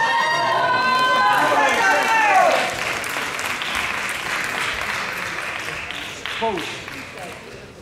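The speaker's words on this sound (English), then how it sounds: "Big round of applause, ladies and gentlemen" At a bodybuilding championship final, an audience claps and cheers while a voice on a loud PA announces over it early on. The applause then continues on its own and slowly fades.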